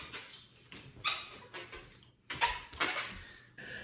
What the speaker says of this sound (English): Notice that the balloons are squeaking way more than usual.